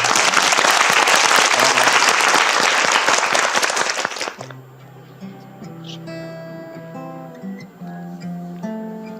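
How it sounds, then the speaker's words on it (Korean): A studio audience on a televised student quiz show breaks into loud, dense applause for about four seconds, which then cuts off as soft instrumental music begins in its place. "박수를 한번 청해보겠습니다"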